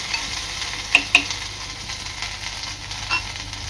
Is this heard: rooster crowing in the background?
no